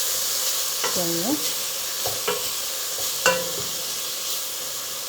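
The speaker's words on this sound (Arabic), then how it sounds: "نزلت الشبن وراح أظل أقلب فيه" Chicken frying in olive oil sizzles steadily while a utensil stirs it in three distinct scraping strokes against the pan, and a voice briefly speaks over the cooking.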